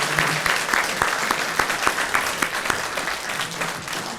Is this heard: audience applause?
yes